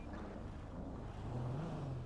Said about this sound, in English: My engine's really loud.